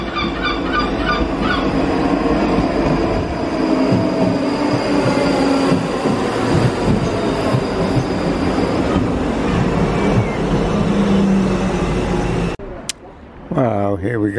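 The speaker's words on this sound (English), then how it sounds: "we stay on this train right the way through to Edinburgh" A train bound for Edinburgh rumbles loudly and steadily on the rails with faint wheel squeal, then cuts out abruptly near the end.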